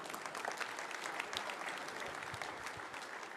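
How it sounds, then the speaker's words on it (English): Audience applause during a pōwhiri welcome ceremony at a water-industry conference in Rotorua: steady, dense clapping that fills the whole stretch at a fairly even level, with no voices standing out. "You're allowed to clap."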